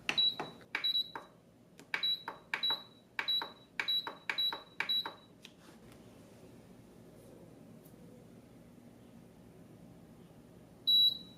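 An Aroma 20-cup digital rice cooker beeps in a rapid run of short, bright electronic tones as its slow cook button is pressed, then falls quiet under low room hum before one final beep.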